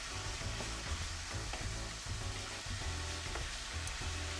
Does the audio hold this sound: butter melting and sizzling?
yes